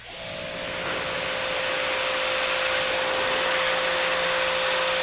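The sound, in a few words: washing mud off a Talaria Sting R MX4 electric dirt bike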